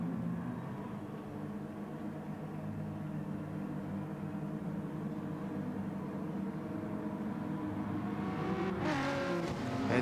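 Race cars in GT Sport roar together at the start of a race at Monza, a dense, steady engine drone that holds throughout and swells slightly near the end, with no voices.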